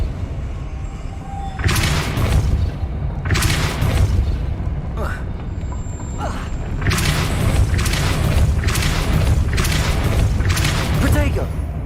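Depulso force-push spell blasts in Hogwarts Legacy sound as several loud, deep booming bursts arriving in uneven clusters over a constant rumbling game background, with a voice speaking between them.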